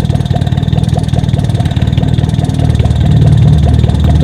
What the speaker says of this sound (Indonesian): Suaranya dari knalpot seperti ini,